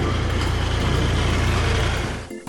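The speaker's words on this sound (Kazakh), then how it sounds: "Тағы да көк трактор келе жатыр." A blue tractor drawing near, its steady low engine rumble loud and continuous before cutting off abruptly near the end.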